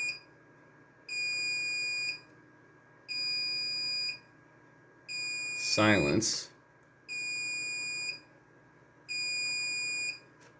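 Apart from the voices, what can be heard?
computer RAID controller alarm beeping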